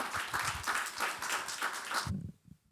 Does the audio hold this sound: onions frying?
no